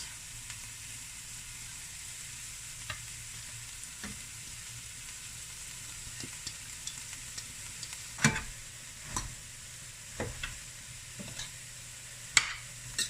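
Vegetables frying in their own juices in a pan with no added liquid, giving a steady soft sizzle while a utensil stirs, scraping and clinking in a scattered series of sharp knocks near the end.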